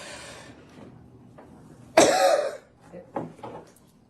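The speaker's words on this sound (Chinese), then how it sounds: "等到第6次深呼吸时，再捂住嘴巴大声咳嗽" A doctor demonstrating a breathing exercise takes breaths, then gives a loud deliberate cough into a covered mouth, followed by a couple of shorter coughs, close and clear.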